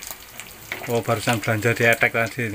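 Pindang fish sizzles as it fries in a pan, a steady crackle running beneath a man's close, continuous talking.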